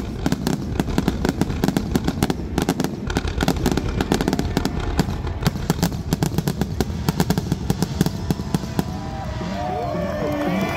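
A Memorial Day weekend fireworks finale crackles in a dense, continuous barrage of rapid pops and bangs, heard from a short distance, with a crowd murmuring and a voice talking underneath as the volley thins toward the end.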